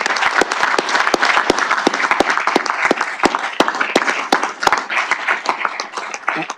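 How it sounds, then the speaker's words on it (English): Applause for an event team at the close of a summit wrap-up: a loud, dense audience clapping with sharp individual claps standing out, steady throughout. "join me in a round of applause for our team"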